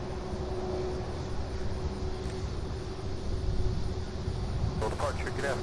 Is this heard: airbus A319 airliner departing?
yes